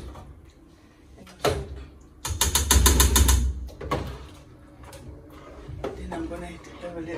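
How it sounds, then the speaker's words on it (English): Metal spoon stirring and scraping a tomato mix in a cooking pot for Ghanaian peanut butter soup, with loud clattering bursts in the middle and lighter knocks before and after, under a voice talking. "So I keep stirring it so make sure the tomato mix is nice."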